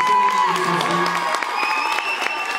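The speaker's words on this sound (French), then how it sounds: "vous pouvez applaudir Chloé Coulou" Audience applause fills a Paris film premiere screening, a steady dense clapping that carries on while a voice speaks over it.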